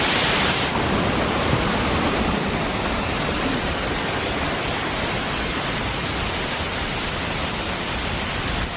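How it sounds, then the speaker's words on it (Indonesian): The Balangbulang waterfall in Gowa gives off a continuous, dense roar of falling water, loud and steady from start to finish with no pauses. "Suara airnya sudah kedengaran sekali ke daerah sini."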